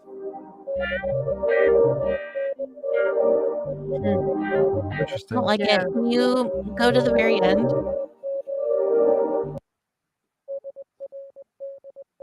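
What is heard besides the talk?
Morse code beeps being played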